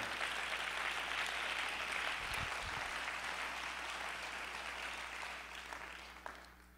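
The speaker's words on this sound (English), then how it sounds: "why don't you clap your hands unto the Lord?" A church congregation claps hands together in praise during a sermon, a dense, steady wash of applause that holds loud and fills the room before fading slightly near the end.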